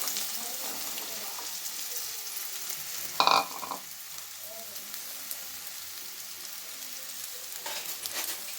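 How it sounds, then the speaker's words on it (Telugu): Sliced carrots stir-fry in a pan in a home kitchen, with a soft continuous sizzle and a sharp clatter of a utensil scraping partway through, plus a few lighter knocks later. "క్యారెట్ ఫ్రై మా చెల్లి చేస్తుంది"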